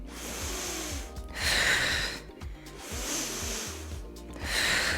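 Forceful, loud breathy exhales during a dumbbell clean, a hissing burst of breath repeating about every one and a half seconds over faint background music.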